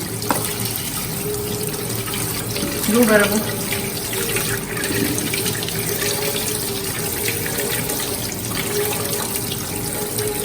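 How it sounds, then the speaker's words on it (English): Tap water runs steadily into a kitchen sink as boiled noodles are drained and rinsed for khow suey, a constant splashing rush with some clinks, while a person speaks briefly over it. "Now you drain them and then you wash them nicely in water."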